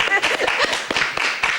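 Brief burst of audience clapping for departing contestants of a postcode challenge quiz featuring a team from Irvine, with voices talking over and between the claps.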